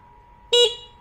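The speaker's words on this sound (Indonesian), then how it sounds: "Nah, itu suara klaksonnya." A single short blast from the horn of a Viar C2 electric scooter, loud and close, lasting a fraction of a second before cutting off to a faint steady whine.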